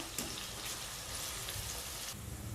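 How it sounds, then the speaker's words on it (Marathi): Finely chopped onion frying in oil in a pan for a paneer and peas biryani, a steady close hiss of sizzling with faint crackles throughout and no speech. "ह्यामध्ये आपल्याला हा कांदा तळून घ्यायचा आहे"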